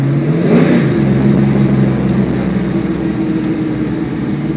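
A car engine fitted with a TMP Carbs venturiless carburetor pulls hard at about half throttle, a loud, close, steady drone that rises and then settles into an even cruise.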